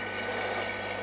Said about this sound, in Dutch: Daar zie je de pompen staan,